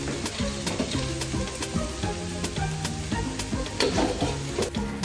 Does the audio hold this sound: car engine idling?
no